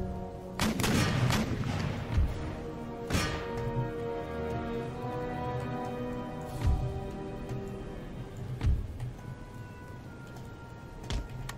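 Artillery cannon and musket volleys on a hilltop battlefield in the strategy game Empire: Total War, with a sustained rumble of gunfire, several sharp booming shots spaced irregularly and a dense crackle of fusillade throughout, no voices.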